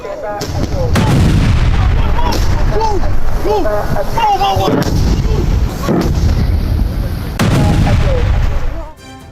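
Rocket impacts and explosions in northern Israel come as several heavy, booming blasts spaced a few seconds apart, with a voice talking loudly over them almost throughout.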